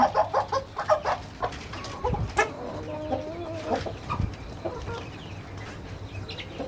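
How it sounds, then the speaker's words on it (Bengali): Black Australorp chickens cluck and murmur nearby in a steady, uneven chatter, with a few louder squawks among the flock and no one speaking. "এই অষ্টলাভ মোরগ মুরগিগুলো আমি ডিমের জন্য লালন পালন করতেছি"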